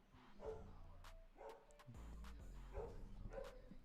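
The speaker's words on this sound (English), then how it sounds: "The dog totally just barked." A dog barks several times in short bursts, fairly close and indoors, with brief gaps between the barks and a low background hum.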